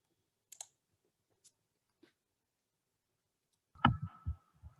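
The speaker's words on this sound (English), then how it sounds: "I just was like typing in stuff." A few sparse, faint clicks of computer keyboard typing, spread out over several seconds in a quiet room, followed by a louder burst of close sounds near the end.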